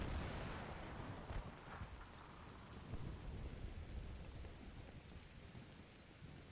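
A vehicle cook-off explosion in a Combat Mission: Battle for Normandy battle, heard as a steady roaring, rumbling wash of burning and crackle with a few sharp pops scattered through it, continuous and fairly loud, with no voices.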